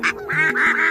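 Ducks squawk in a few loud, nasal honking bursts, close and overlapping, used as a sound effect in a narrated folktale about a witch's ducks and a jackal.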